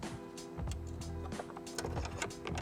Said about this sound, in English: and then I take my ratchet wrench